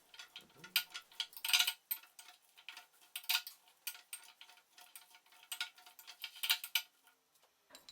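Soft sweet potato being mashed in a bowl, with a series of quiet, irregular clicks and scrapes of the utensil against the dish and short pauses between strokes, close and alone.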